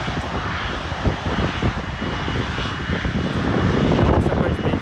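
A loud, steady airplane engine roar at Manchester Airport, heard close by from behind the perimeter fence, building slightly in intensity toward the end, with no voices.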